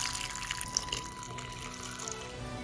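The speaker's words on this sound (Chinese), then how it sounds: "然后加入清水" Clean water pours into a large bowl of strawberries, a steady running trickle with light splashing that stays soft and close, with no voices over it.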